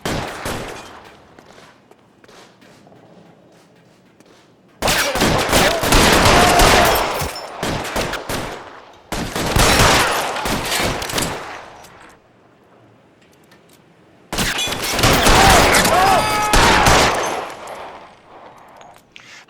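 Gunfire in a police shootout from the video game L.A. Noire comes in three loud dense bursts of rapid shots, separated by quieter stretches with scattered single shots and faint background sounds.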